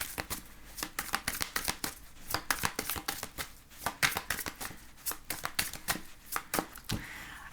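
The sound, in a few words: shuffling tarot cards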